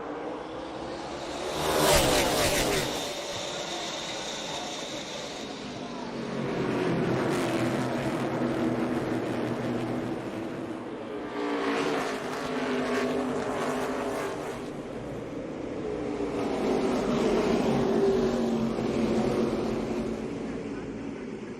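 NASCAR stock cars race on the Charlotte Roval road course, engines roaring past in loud swelling waves with a crowd-like wash underneath, a commentator talking over the racket.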